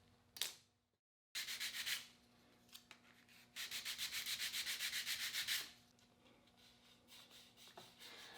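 Rhythmic scratchy rubbing of sandpaper on a turned wooden bowl, a quick run of back-and-forth strokes after a few scattered scrapes, close and fairly quiet.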